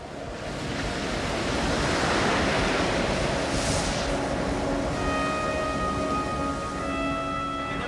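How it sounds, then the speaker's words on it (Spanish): Heavy ocean swell and surf pounding at sea near an island, a continuous loud roar of breaking waves and rushing water mixed with wind buffeting, steady throughout with a faint tonal drone joining later. "El fuerte oleaje dificulta la navegación."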